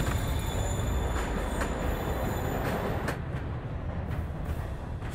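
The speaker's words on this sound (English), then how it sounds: "Train's moving." A moving train rumbles past with rolling low-end noise and intermittent metallic wheel squeals and clicks, steady and moderately close, with no talking.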